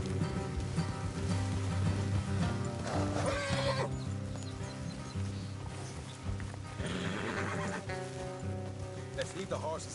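Horses whinny and snort amid clip-clopping hooves and a busy layered Red Dead Redemption 2 game background, with voices talking intermittently.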